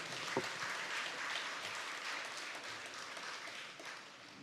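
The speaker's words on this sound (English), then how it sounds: "Can we give him another round of applause?" Steady crowd clapping at the Gingerland Secondary School graduation ceremony in 2024, a faint, even wash of applause from many hands with no voices over it.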